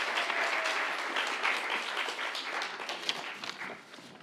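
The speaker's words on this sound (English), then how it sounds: "let's welcome our panelists with a big round of applause" An audience applauds steadily, dense clapping from a crowd that holds for several seconds and then begins to taper off.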